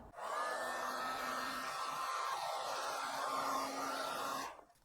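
Heat gun blowing steadily for nearly five seconds while shrinking resin-lined heat shrink tubing over a wiring joint, a continuous, fairly loud airy whine that cuts off at the end, with no talk.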